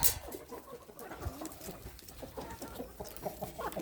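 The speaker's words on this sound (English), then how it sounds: "they're clucking around me" Chickens cluck in short, scattered bursts close by, over a steady bed of outdoor background noise.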